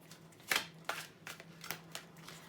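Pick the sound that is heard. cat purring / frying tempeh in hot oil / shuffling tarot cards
shuffling tarot cards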